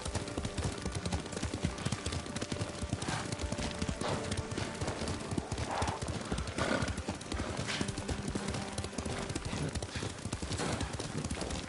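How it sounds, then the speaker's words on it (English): Steady clip-clop of horse hooves at a trot, with an occasional whinny, set against a dense soundscape of background noise in the video game Ghost of Tsushima. "Lord Sakai taught me to ride a horse."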